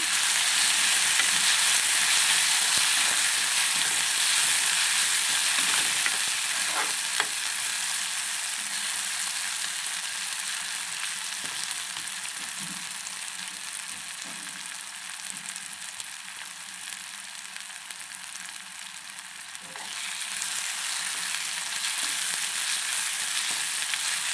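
Masala of chilli powder, turmeric, chicken masala and salt simmers and fries in a pan, giving a steady close hiss and sizzle throughout with faint scattered pops and a slight dip in level midway.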